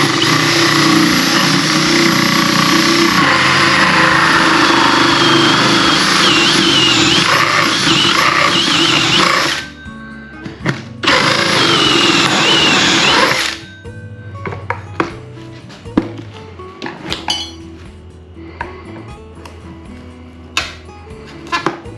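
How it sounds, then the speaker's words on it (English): A drill bores through a pipe for a bank fishing rod holder, a loud, continuous grinding whir close by. It runs about ten seconds, stops briefly, runs again, then gives way to scattered clicks and handling clatter. "So as we drill, we'll get it started and then we'll lean it"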